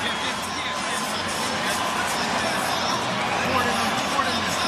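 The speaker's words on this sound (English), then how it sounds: "There's a lot of boos for Saul Alvarez, who's up there celebrating as though he's won it" A large boxing arena crowd booing Saul "Canelo" Alvarez after his rematch with Gennady Golovkin, a steady roar of booing and crowd noise.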